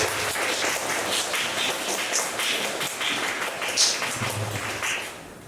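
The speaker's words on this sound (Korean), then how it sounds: "우리 박수로 환영할까요?" A congregation at a weekday workers' church service applauds to welcome the pastor, with steady, dense clapping from many hands, moderately loud and sustained throughout.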